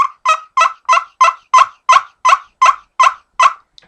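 A walnut nail-style turkey call runs a clear, loud series of about eleven evenly spaced yelps, each a short raspy note, with no voices over them.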